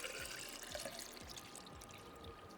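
Water poured into a cup or glass, a steady faint splashing trickle with repeated soft pulses, alone with no talk.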